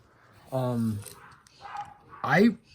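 A dog barks and yips a few times in short, close bursts with pauses between, one sharp whimpering bark at the end.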